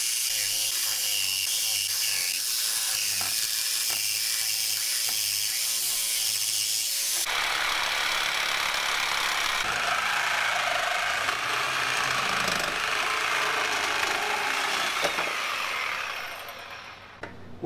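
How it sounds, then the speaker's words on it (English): A powered cutting tool grinds through a Toyota Tacoma truck frame. The whine is steady and close, turns into a harsher, brighter roar partway through, and dies away at the end. "I'm gonna start here and just cut right behind this thick piece, straight through here"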